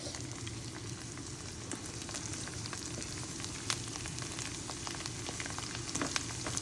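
Spices fry in a hot pan until they turn red, a steady crackling sizzle with tiny pops throughout, close and even, no voices.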